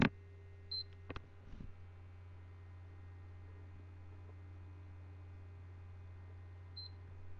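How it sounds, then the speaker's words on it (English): A PS3 console gives two short, high beeps about six seconds apart while its power button is held for a reset, over a low, steady hum with a few soft knocks at the start. "keep holding the on button thing for like 10 seconds until you hear two beeps"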